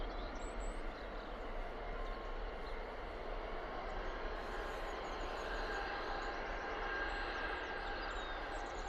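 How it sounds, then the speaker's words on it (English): EasyJet Airbus A320 airliner taking off for Alicante, a steady broad engine roar that holds at a constant level throughout, heard from a distance outdoors. "EasyJet 320 heading out to Alicante"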